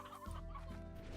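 Chickens cluck softly in the video game Slime Rancher, a short faint burst of fowl chatter over a low background hum.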